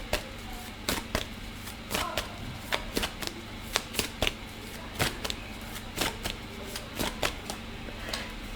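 Tarot cards are shuffled by hand in a quiet room, a sharp riffling snap and soft slide repeating roughly once a second, close and crisp.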